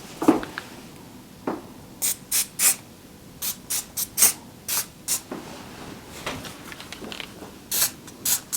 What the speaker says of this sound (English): I'm just going to do a slight little zhuzh of some hairspray.